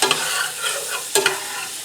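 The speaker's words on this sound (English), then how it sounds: "We just want to cook them on medium-low in the butter" Vegetables for a cream of asparagus soup base sauté in butter over medium-low heat, giving a steady soft sizzle and frying hiss with brief clinks of a spoon stirring the pan.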